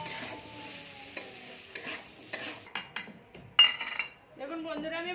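Potatoes with salt and turmeric stirred in a frying pan: a few scraping spoon strokes over a low sizzle, then a sharp metallic clink near the end.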